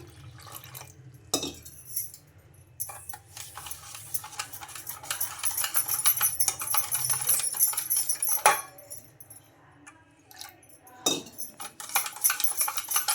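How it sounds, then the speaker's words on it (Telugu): Semolina (rava) is stirred with buttermilk in a bowl for a ridge gourd and wheat rava breakfast: wet scraping and clinking of a spoon against the bowl, steady for several seconds with a few sharper knocks, close and fairly quiet, no talking. "బాగా ఇలా అంతా కలిపేసుకోవాలి రవ్వ మజ్జిగ అంతా కలిసిపోయేటట్టు కలిపేసుకోవాలి"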